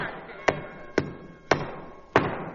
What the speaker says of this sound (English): Buck finally nailed down the door of the cage